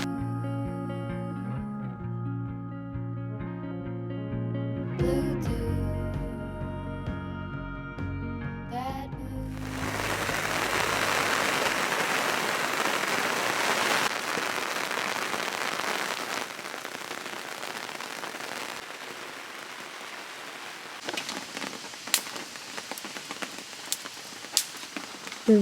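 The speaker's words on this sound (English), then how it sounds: "The rain continued. It was a pretty wild night" Heavy rain drums steadily on a roof tent during a wild night thunderstorm, a dense close hiss that grows after a stretch of music, with scattered sharp cracks toward the end.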